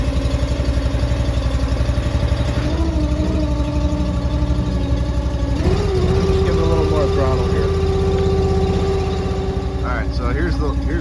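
The engine of a Wolfe Ridge 17VS-C log splitter idles close by in a loud, steady, low rumble, with a higher whine rising partway through and someone talking over it.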